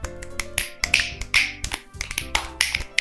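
Finger snaps from a listening group after a poem reading at a literature club, several sharp snaps in an irregular scattered rhythm, close and fairly loud, with no talking.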